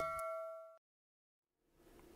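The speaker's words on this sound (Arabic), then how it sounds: "تفعلوا جرس التنبيه ليوصلكم كل جديد" A bright notification bell chime rings out at the start, a short ding with steady tones that stop abruptly, followed by silence and then faint room noise.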